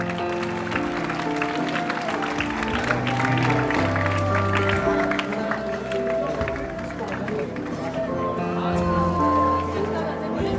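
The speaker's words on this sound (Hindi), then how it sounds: "सर जोरदार तालियां हो जाए।" An audience claps at a school alumni meet at Jawahar Navodaya Vidyalaya Laduna in Mandsaur, a sustained crowd applause mixed with music and voices throughout.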